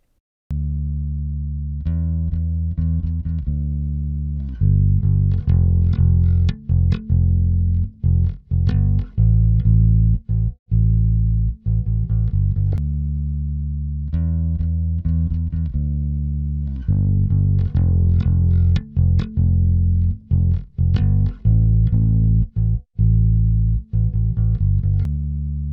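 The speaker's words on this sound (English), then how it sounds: "Now let's hear the module on bass." Bass guitar played through a Toneloc Level-Loc compressor colour module, a DIYRE unit, producing sustained, heavily compressed low notes in a steady phrase with short gaps and plucked attacks, loud and alone.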